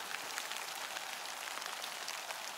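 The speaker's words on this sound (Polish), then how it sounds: "bąble robią się po deszczu na wodzie, to znakiem tego, że tak szybko nie przestanie" Rain falls on open water, raising bubbles on the surface: a soft, dense, even hiss of drops that stays constant throughout, with no voices.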